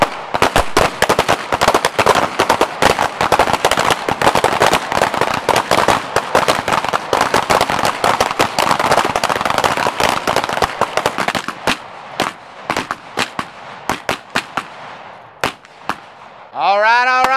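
A handgun fires rapidly while the shooter moves left to right through a full magazine, with sharp, close reports coming in quick, dense bursts before the shots thin out and stop.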